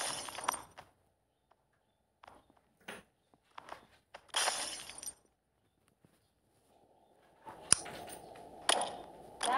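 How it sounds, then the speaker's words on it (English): Scattered sharp crashes and clinks of glass broken with a hammer in a video game, separated by silent gaps, followed by a low electronic hum and a few more bright shattering hits. "Okay, let's break the glass."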